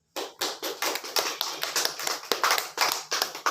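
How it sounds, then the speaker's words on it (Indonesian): A classroom of students applauds a classmate, a steady burst of many hands clapping close by for about three seconds with no talking over it. "berikan aplaus untuk Iga"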